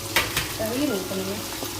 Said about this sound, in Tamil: தயிர் ஊற்றி கிண்டிக்கிட்டே இருக்கணும்